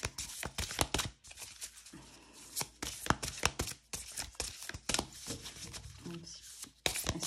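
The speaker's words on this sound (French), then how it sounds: "je vais mélanger les cartes" Matte oracle cards are shuffled by hand in quick, crisp bursts of riffling and slapping, separated by short pauses, close and clear with no talking.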